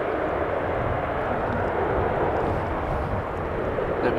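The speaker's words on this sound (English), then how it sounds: "It was an Embraer 190 coming in from Düsseldorf." A 16-year-old German Airways Embraer 190 from Düsseldorf approaching to land on a windy day at Amsterdam Schiphol runway 18R, heard as a steady, broad jet roar that holds loud throughout, alone without voices.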